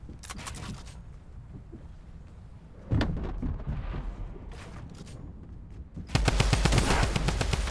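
Fortnite Battle Royale gunfire comes as rapid automatic bursts, a dense rattling stretch near the middle and a loud sustained volley at the end, with softer distant shots and game ambience in between.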